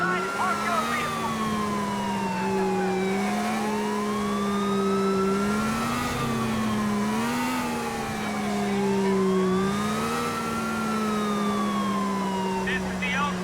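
Car from GTA IV driving with a steady engine drone, a wailing police siren rising and falling over it throughout, loud and close.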